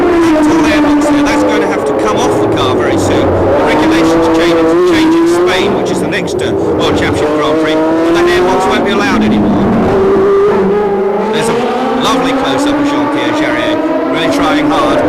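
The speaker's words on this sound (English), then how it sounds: "The V12 engine, it literally screams, this engine." Formula 1 car with a V12 engine screaming at high revs while racing on a Grand Prix circuit, a continuous loud, rising and falling wail of harmonics over constant commentary.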